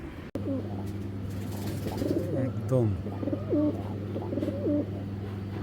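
A pair of Jabra pigeons coo in soft, rolling repeated calls close by, under a steady low background hum while someone talks over them.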